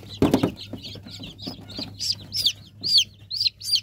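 Chicks of Brahma and local breeds peep in a rapid run of high, thin calls, close by and fairly loud after a brief low thump at the start, with a steady low hum underneath.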